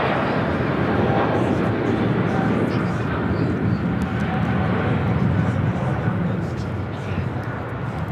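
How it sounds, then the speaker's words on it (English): A Cathay Pacific Boeing 777-300ER takes off, its engines a broad, sustained roar that holds steady and eases slightly near the end, with people talking over it. "This is Cathay Pacific Flight 881 taking off to Hong Kong on the 777-300ER"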